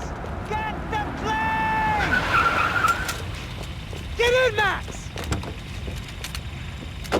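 A car in the video game Max Payne 3 revs and skids, with tires squealing in short bursts over engine noise and a voice speaking.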